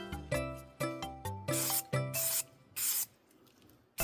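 Short bursts of a spray can coat B&T SPC9 gun parts outdoors, several quick hissing sprays in a row with small rattles between them, close and fairly loud, ending in longer sustained sprays.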